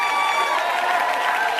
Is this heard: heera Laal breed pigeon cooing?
no